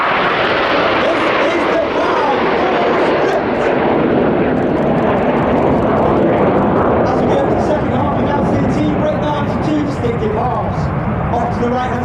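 Red Arrows jets fly a display manoeuvre at an air show, a loud continuous roar of jet engines filling the whole stretch without a break.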